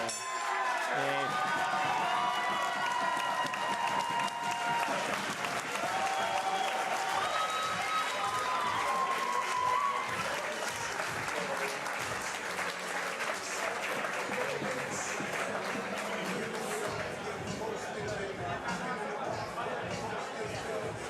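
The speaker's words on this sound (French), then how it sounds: "C'est la foule." Sustained applause and cheering from a crowd at a kickboxing exhibition, loud and continuous throughout, with murmured chatter mixed into the clapping.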